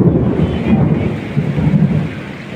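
Thunderstorm with heavy rain beside a highway at a school field in Jhenaidah, Kaliganj: deep continuous rumbling thunder over a dense wash of falling rain, loud and close with no voices.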